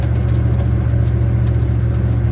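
A car engine rumbles steadily and loudly at low pitch on a rough, bumpy road after the wrong gear is selected, a constant near drone with no talk.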